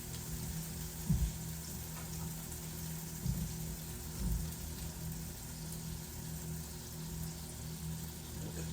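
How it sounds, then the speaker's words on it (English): Steady bubbling and hissing of a pot of water at a boil, with a few soft clunks over the continuous simmering noise. "it looks like our water is boiling"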